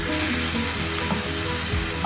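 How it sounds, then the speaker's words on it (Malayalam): Chopped tomatoes sizzle and crackle steadily in a hot pan for a Malayalam-style sardine biriyani, stirred now and then with a few soft scraping knocks, close and even, with no one speaking. "തക്കാളിക്ക് അടിച്ചു നന്നായിട്ട് ഇളക്കി കുറച്ച് നേരം അടച്ചു വെച്ച് വേവിക്കണം."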